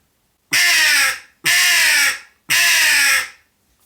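An Acme crow call, blown to imitate a European crow, gives three loud, harsh caws in an even rhythm with short silent gaps between them, close and alone.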